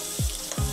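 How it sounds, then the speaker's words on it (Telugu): Onions and green chillies sizzle in a pan for egg poha, a steady close frying hiss with two brief louder bursts as the pieces are moved. "ఈ ఉల్లిపాయలు పచ్చిమిర్చి కొంచెం ఫ్రై అవ్వనిద్దాం."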